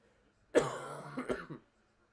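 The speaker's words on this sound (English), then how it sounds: "It's just the cough." A single close cough bursts out suddenly and is followed by a short rough throat-clearing rasp. It happens during live hockey commentary and ends in quiet.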